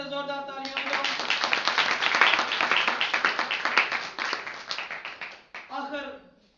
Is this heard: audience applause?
yes